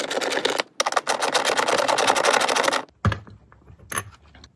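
Rear seat bolts being worked loose on a third-generation Toyota 4Runner, a dense run of rapid metallic ratcheting clatter for nearly three seconds, then a sharp clunk and scattered lighter knocks and rattles.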